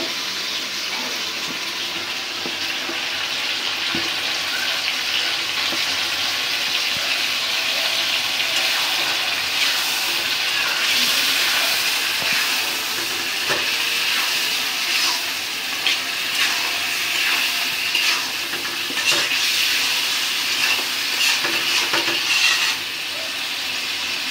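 Chicken pieces hit a pan of cooked-down spice paste and set off a loud, steady, hissing sizzle that runs unbroken for about twenty seconds, close up and with no voices.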